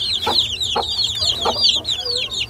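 A backyard hen clucks in short repeated bursts, with rapid chirpy calls running throughout, close by and fairly steady.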